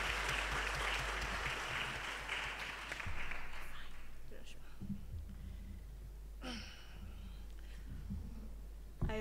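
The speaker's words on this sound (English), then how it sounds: "Can we give her a round of applause?" An audience at a women's innovation and digital-skills event applauds as a speaker is welcomed to share her journey, a steady close wash of clapping that slowly fades under a low hum, with a few voices and sounds from the room.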